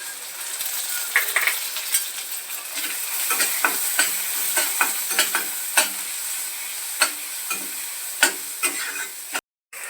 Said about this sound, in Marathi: कांदा चांगला सोनेरी रंगापर्यंत होईपर्यंत भाजायचा आहे